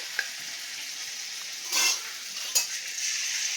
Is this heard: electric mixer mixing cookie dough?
no